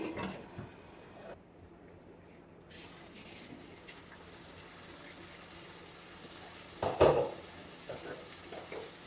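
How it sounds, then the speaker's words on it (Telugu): Tomatoes and onions fry in a pan for a rajma curry, giving a steady, soft sizzle throughout with faint stirring. A louder scrape or clatter comes near the end. No one speaks. "టమాటా ఉల్లిపాయ పచ్చివాసన పోయే వరకు బాగా ఎర్రగా వేగితేనే టేస్ట్ బాగుంటుందండి."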